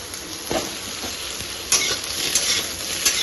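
Sizzling stir-frying in two woks (kadai) cooking poppy-seed potato and fish curry, a continuous loud hiss with a few sharp spatula scrapes and clinks near the microphone.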